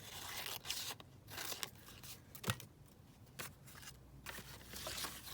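Paper being trimmed with scissors at close range, a few quiet snips and crisp rustles spaced irregularly over a soft background.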